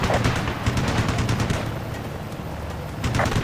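Rapid gunfire from a jet's cannon in the Ace Combat Assault Horizon video game, dense bursts of rattling shots over a constant roaring engine drone, loud and continuous.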